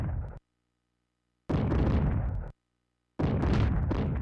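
Bazooka rounds fired and exploding in the SNES game Zombies Ate My Neighbors: loud booming blasts in separated bursts, each cutting off abruptly into silence, no voices.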